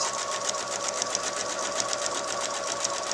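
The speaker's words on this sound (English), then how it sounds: "This time I'm going to sew from the bottom up to the dot." A sewing machine stitches a skirt for an 18-inch doll, running at a steady, fast, even whir with rapid needle clatter throughout, close and continuous with no pauses.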